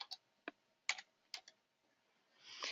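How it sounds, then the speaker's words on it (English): A handful of separate keystrokes on a computer keyboard, quiet and close, tapped irregularly with gaps between presses, ending in a softer rustling sound. "So I'm going to type in NL"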